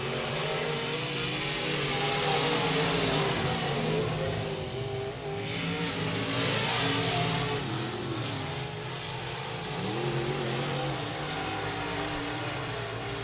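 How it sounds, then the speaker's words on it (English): Race cars roar around a dirt speedway at 67 Speedway of Texarkana, engines droning and swelling as the pack passes down the back straightaway, with a steady crowd of motors in the distance. "Heaton Atkinson going to throw his hat in the ring and try to roll in this top 2 with him. Down the back straightaway, the 12 of Ingalls"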